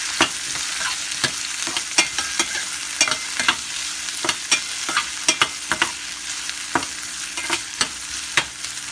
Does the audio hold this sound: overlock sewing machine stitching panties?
no